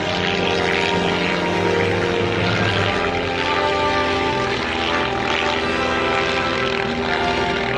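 Classic propeller-driven fighter planes roar overhead at the Classic Fighters airshow in Omaka, New Zealand, a loud, sustained, throbbing engine drone that holds steady throughout without talk.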